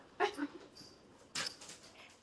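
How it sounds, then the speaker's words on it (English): A dog barks and whimpers indoors, giving two short bursts of yips and whines about a second apart, fairly quiet against a low room background. "if you're gonna start barking, you're gonna get out of here"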